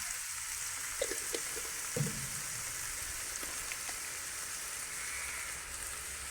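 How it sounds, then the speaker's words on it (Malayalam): Onion, tomato and green chilli frying in a pan for a Pathanamthitta-style chicken curry, a steady soft sizzle throughout with a few light clicks and scrapes of stirring, close and alone. "ഇനി സവാള തക്കാളിയും പച്ചമുളകും ഇട്ട് കൊടുക്കുകയാണ്."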